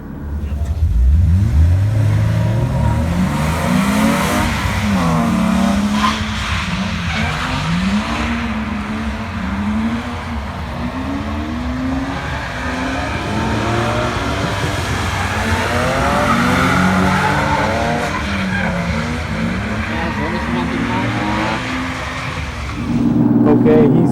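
Drift cars at the Racewars 2022 drift competition rev hard and skid through a tandem battle for about twenty-four seconds, loud continuous engine wail with rising and falling pitch and tire squeal, a voice talking over it.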